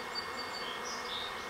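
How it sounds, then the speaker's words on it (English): A honeybee swarm gathers at the edge of a hive box, fanning wings in a steady, close, continuous buzzing drone with no pauses or talk. "There's bees and they're fanning their wings to give out the scent to tell the other bees that this is where we're staying now."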